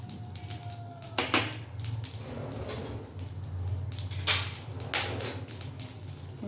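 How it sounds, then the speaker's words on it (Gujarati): Cumin, mustard, fenugreek seeds and spices crackle in hot oil for a toor dal tempering, with scattered sharp pops and sputters over a low sizzle and a faint background hum. "જીરું, રાઈ તો તળવા લાગી છે, જીરું થવા લાગ્યું છે"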